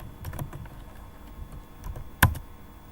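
Close-up keystrokes on a computer keyboard while coding an HTML form button, a steady run of light clicks with one sharper, louder key press near the end, no talking.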